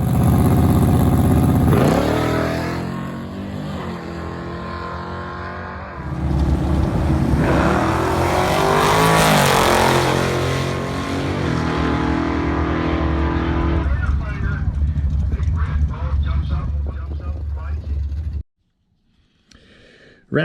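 Barracuda drag car with a 512 big-block engine and slicks launching down a drag strip, a loud roaring engine rising in pitch through gear changes, then fading away and cutting to near silence.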